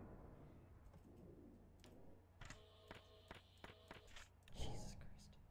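A bird coos repeatedly in the game One Night at Flumpty's 2, a series of rhythmic, moderately loud coos, with someone talking underneath.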